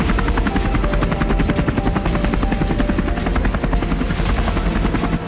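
A Bell series multipurpose helicopter flying close by, its loud, steady rotor chop pulsing rapidly over a constant engine whine throughout, with no voices.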